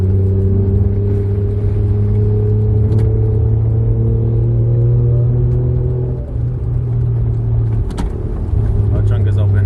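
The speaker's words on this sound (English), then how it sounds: "you're lugging the engine, so it should boost, right?" A MK3 Toyota Supra's 1JZ VVTi engine lugs in second gear, a loud, steady, low droning rumble from inside the car that holds for nearly ten seconds with only slight dips, with voices faint underneath.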